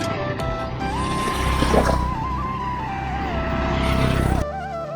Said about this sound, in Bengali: মাঝে মাঝে কিছু গাড়ি আসতেছে